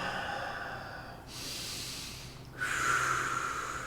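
Slow, audible breaths during a yoga stretch: a long exhale, a pause, then a sharper nasal inhale and another airy breath, close and fairly quiet.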